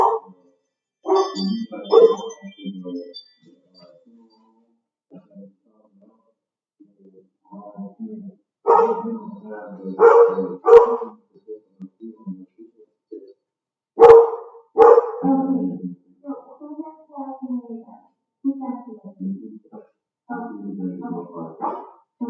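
A dog barks in scattered bursts, some sharp and close, with a person talking in between the barks.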